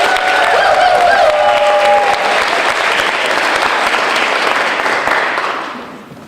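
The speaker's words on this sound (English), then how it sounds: "Let's applaud the poets." A high school poetry slam audience bursts into loud sustained applause with some cheering and a few whistles, holding steady for several seconds before fading out.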